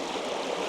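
White water tumbling over rocks in a small river cascade at Glencoe, a close, steady rushing hiss with no voices.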